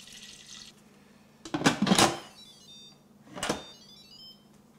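Two bursts of liquid splashing as 2 litres of organic milk pour into an Instant Pot, each lasting about a second over a quiet kitchen hum.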